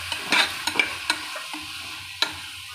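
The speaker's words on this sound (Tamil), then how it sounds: "இதை நல்லா நம்ம வந்து சேர்த்து அது கூட கிண்டிக்கணும்." Washed mint is stirred into frying egg biryani masala: a soft sizzle under several sharp spoon scrapes and clinks against the pan, spaced irregularly across a few seconds.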